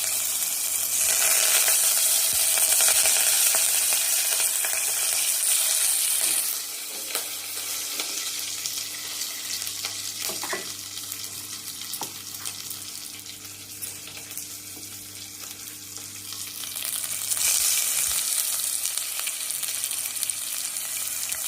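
Cumin seeds and green chillies sizzle and crackle in hot oil. Stirring clatters now and then over a steady, close frying hiss that grows louder at the start and again near the end, with no talk.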